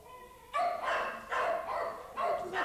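A small dog barks close by in three sharp bursts, with short pauses between them.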